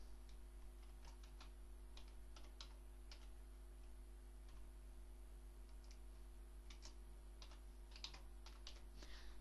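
Name being typed on a computer keyboard, with quiet, close clusters of quick key clicks and short gaps between bursts over a steady low electrical hum.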